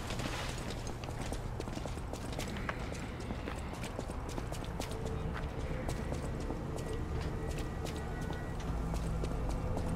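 Donkey hooves clip-clop steadily throughout in the video game Lies of P, a continuous stream of close hoofbeats over a busy game soundscape.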